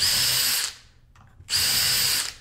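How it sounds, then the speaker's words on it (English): A power drill fitted with a small self-centering bit drills cabinet hinge screw holes in two loud, high bursts split by a brief quiet pause. "And then use this little self-centering drill bit."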